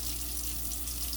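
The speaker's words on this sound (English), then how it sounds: "keep the water on" Kitchen faucet water runs in a steady, loud, continuous rush into a sink, with no voices over it.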